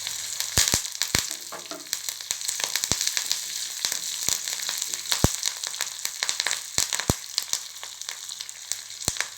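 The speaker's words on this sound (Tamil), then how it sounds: "இது எல்லாத்தையும் தாளித்து எடுத்தாச்சு." Ginger, green chillies and curry leaves sizzle and crackle hard in hot oil for a millet pongal tempering: a dense, bright frying hiss sharply punctuated by loud spitting pops.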